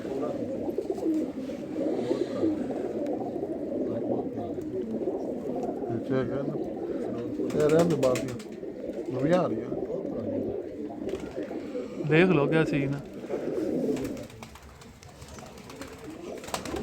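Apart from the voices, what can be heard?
pigeons cooing on a rooftop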